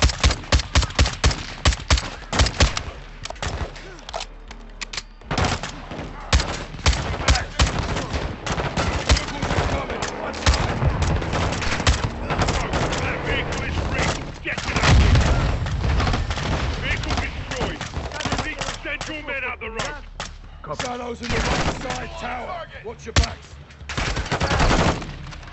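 Dense gunfire from Call of Duty Modern Warfare 2 rattles almost continuously: sustained machine-gun bursts mixed with single shots and booms, loud and close, with voices shouting over the fighting.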